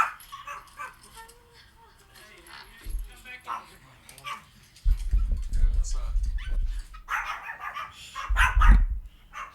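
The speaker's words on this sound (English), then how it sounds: "my dogs are barking because they heard themselves barking" Dogs barking indoors during a live chat stream, with a voice talking quietly at first before loud, close barks and yips break out in repeated bursts.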